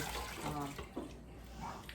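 Reserved pasta water pours into a pan of clam sauce for linguine, a steady watery splash and gurgle running the full length at moderate level, with no talk.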